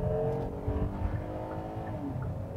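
A Kia Telluride / Hyundai Palisade SUV engine revs hard under acceleration, a steady droning roar with rising tonal harmonics, heard close and alone without talk.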